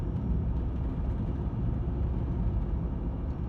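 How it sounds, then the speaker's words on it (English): A VW T4 van's 2.5 TDI diesel engine, fitted with an aftermarket performance air filter, cruises in fifth gear at about 40 mph and 1500 rpm, a steady, even low drone and rumble with no talking. "Fifth gear, just cruising along, 40 mile an hour, at 1500 RPM."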